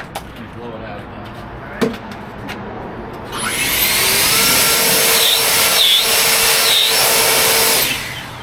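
Forceful air blast from a compressed-air nozzle clearing debris out of a drilled hole while installing a bronze plaque, starting abruptly and blowing steadily for about five seconds with a few brief pulses, preceded by quiet background and a single knock.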